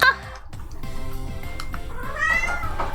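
A cat meows loudly and close by indoors, a few short drawn-out calls in quick succession.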